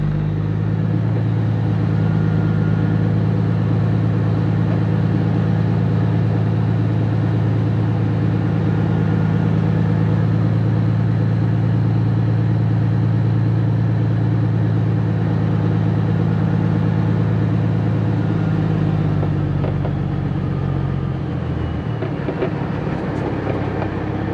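A truck hauling an ex-military Cat D7F dozer creeps slowly onto a weighing scale. Its engine hums low and loud throughout, close and steady, then the note drops away near the end as it settles.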